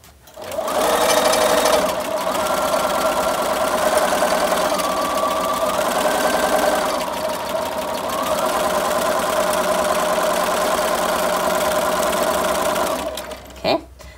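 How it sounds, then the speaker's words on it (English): A sewing machine sews a seam on a kid's apron, loud and close, running nearly continuously with slight shifts in speed for about twelve seconds before stopping with a short click. "I'm just going to start sewing with my 5/8 inch seam allowance"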